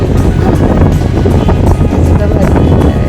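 Wind roars steadily past an open auto rickshaw riding through Koparkhairane. The loud, constant buffeting rush fills the whole short stretch, and faint voices may sit under it.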